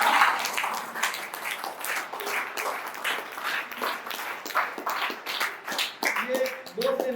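Audience clapping at a Hindi comedy show, scattered crowd applause with sharp irregular claps rising and falling, near and fairly loud, with a voice speaking over it.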